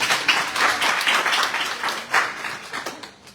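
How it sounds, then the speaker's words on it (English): Audience at a formal dialogue event in Qatar claps in uneven bursts, a moderate crowd applauding that swells and fades several times before tapering off. "I'll clap for him."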